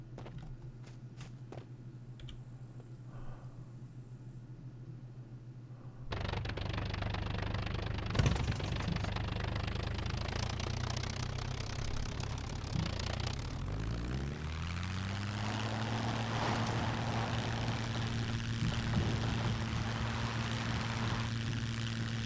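A float plane's propeller engine in the SCUM video game idles with a low drone, then roars up loudly for takeoff, holding a sustained heavy hum with a rising, shifting engine tone.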